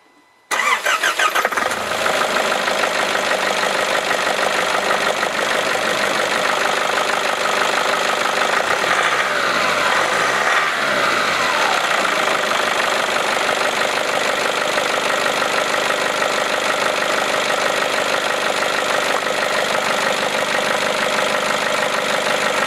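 A Nissan Patrol with a ZD30 diesel engine starts and settles into a steady, loud idle with a knocking diesel clatter that runs on without a break.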